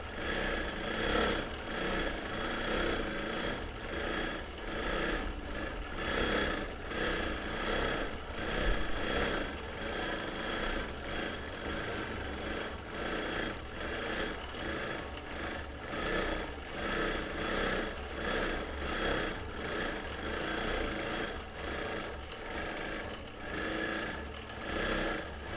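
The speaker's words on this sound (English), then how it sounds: "I'm going to purposely stitch right over that." A sewing machine stitches over thick quilt seams in a linen blend, a fast, even mechanical whirr with regular pulsing, faint and steady throughout.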